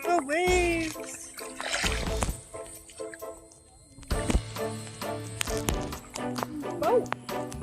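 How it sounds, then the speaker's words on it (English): Waves wash in and splash at Sunset Beach in St. Petersburg, Florida, in a few surging bursts close by, while people talk and call out over the water. "Here comes the waves."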